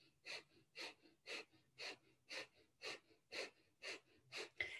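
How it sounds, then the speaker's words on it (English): Breath of fire, a Kundalini yoga pranayama of rapid breathing through the nose: about ten sharp, evenly spaced nasal exhalations at roughly two per second, close and fairly quiet, with no talking. "Beginning breath of fire, panting like a dog through the nose."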